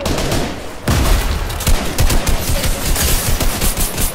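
Rapid gunfire and sniper shots in the battle royale game Fortnite: a loud, sustained stream of sharp shots and crackling bursts that starts after a brief lull and continues almost without pause.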